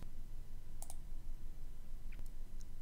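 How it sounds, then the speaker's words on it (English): A few computer mouse clicks, one soft click and a couple of sharper ones, spaced apart and alone against steady low background hum while confirming buttons on a website builder. "Now I'll click Done, and then Save and Publish."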